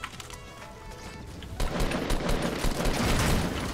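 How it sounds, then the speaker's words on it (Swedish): Dense, rapid Fortnite gunfire with a heavy burst of shots that grows louder partway through and keeps going, crackling and booming. "Nu får vi se om de börjar skjuta på oss istället."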